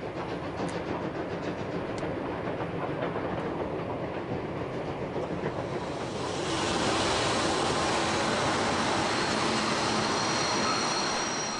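A class 86 steam locomotive rolls steadily across a viaduct near Fützen at a distance, a continuous rushing rumble with faint rhythmic clatter that swells and brightens partway through.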